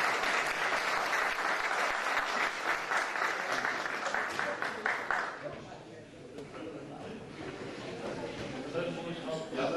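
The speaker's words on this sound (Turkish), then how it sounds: "bir alkışlar tutuyoruz" An audience at a Turkish commemorative session on Atatürk claps loudly for about five seconds before the applause thins and fades into quieter room noise.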